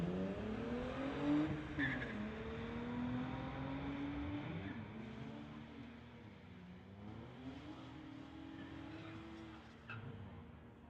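A 2006 Infiniti and a 2017 Ford F-150 drag race at a street-legal event, with car engines revving and rising through the gears over several seconds, somewhat distant, fading toward the end.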